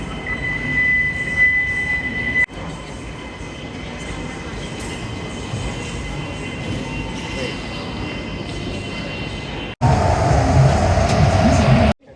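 A Hong Kong airport train runs with a steady, continuous rumble and rail noise throughout, growing noticeably louder and fuller in a final stretch before cutting off.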